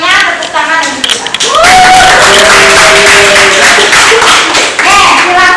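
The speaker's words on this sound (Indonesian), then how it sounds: "tepuk tangan untuk kita" A classroom of students bursts into loud, sustained clapping after a lesson, with excited voices calling out over the applause.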